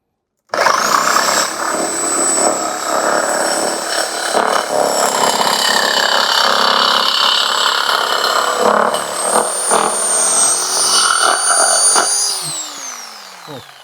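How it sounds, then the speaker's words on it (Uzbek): A power tool with a metal-cutting saw blade bites into thick iron, giving a loud, sustained grinding screech with a high whine that holds for about twelve seconds and then winds down. "Bu apparat bilan mana shu temirimizni kesasan, ishonasizlarmi?"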